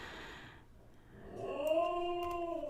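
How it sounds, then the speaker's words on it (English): A dog howls somewhere in the background, a single drawn-out wavering howl that starts faint and swells, heard alone with no talk. "My dog is howling in the background there."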